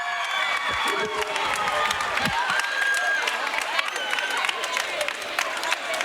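A raucous home crowd at an Ohio Northern women's college basketball game against Baldwin Wallace cheers and applauds a buzzer-beater, a steady dense roar of clapping and shouts with voices mixed in throughout.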